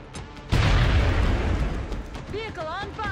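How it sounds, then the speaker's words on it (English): Grenade blast in the strategy video game XCOM: a sudden loud boom followed by a sustained rumbling roar, with a few rising electronic chirps near the end. "Should I just throw a grenade?"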